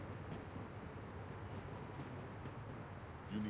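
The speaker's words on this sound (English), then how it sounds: "You need to stop the train." A train rumbles steadily along in The Walking Dead game, a continuous low rolling drone with faint rhythmic rail clatter, ending in a brief higher whine.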